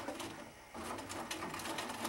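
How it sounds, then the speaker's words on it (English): Sewing machine running a zigzag stitch over elastic onto fabric, a fast steady mechanical whir with a brief slowdown before resuming, close and alone. "I'm going to be zigzagging back and forth over the top of the elastic onto the fabric."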